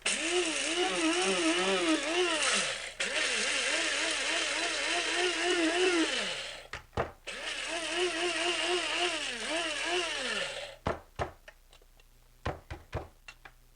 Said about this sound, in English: about a tablespoon of flax and put it in my grinder.